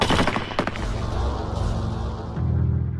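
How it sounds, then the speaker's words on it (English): A dramatized firing-squad volley of eight rifles goes off in one loud, sharp blast at the start, followed by a rumbling, reverberant decay and a low ominous drone. "The deafening explosion of the 8 rifles was the last thing Ahmed heard."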